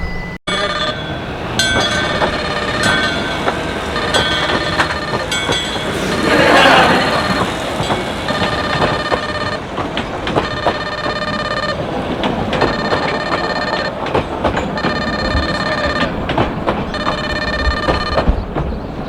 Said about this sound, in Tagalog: So guys, active pala yung train na yun. Kala ko display lang.